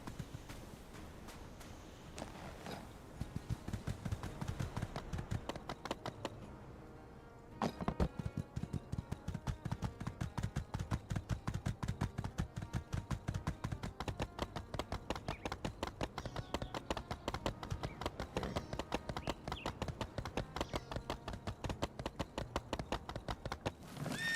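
Horse hooves clip-clop in a video game, a long run of fast, evenly spaced hoofbeats that pause briefly partway through and then resume at a steady galloping rhythm, close and prominent.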